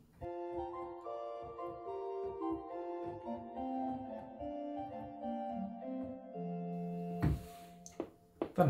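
The 4 foot stop of the Oude Kerk Veenendaal church pipe organ plays alone, a clear stepwise melody of sustained, fairly soft tones. A short noise closes it.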